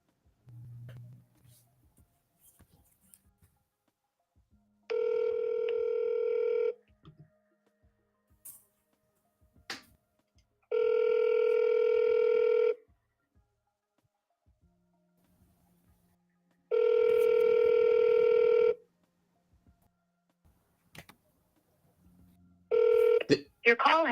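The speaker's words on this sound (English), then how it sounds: "Hang on, I'm going to call this guy." Outgoing telephone call ringing back on the line, three long evenly spaced tones with silent gaps between them, followed by the start of a fourth, with faint clicks in the background.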